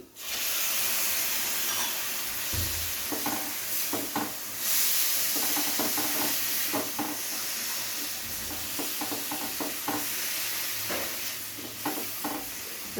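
Chopped tomato fries with onion and spices in a pan, giving a steady hiss and sizzle punctuated by repeated scraping and clinking as a utensil stirs.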